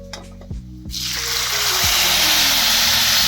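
Milk pours into a hot pan of roasted vermicelli after a few clinks, building into a steady, loud bubbling sizzle that continues to the end.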